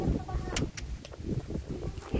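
Strong typhoon wind buffeting the microphone in gusty, rumbling bursts, with rustling plastic and clatter nearby and people talking over it.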